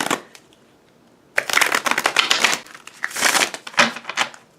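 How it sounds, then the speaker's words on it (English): Oracle and tarot cards are riffled and shuffled in close, loud bursts of papery flutter and slapping, with a brief pause early on and then several dense rounds of shuffling. "I'm going to try to pull an oracle card and a couple tarot cards right there"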